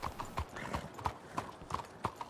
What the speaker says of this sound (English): Yep, too many horses.